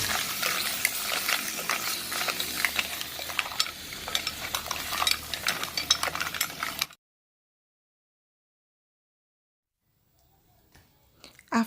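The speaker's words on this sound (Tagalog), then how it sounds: "let's put in the mussels or the tahong and saute it for another minute" Mussels (tahong) sauteing in a pan, a steady sizzle with stirring scrapes and clinks, close and continuous for about seven seconds before cutting to silence.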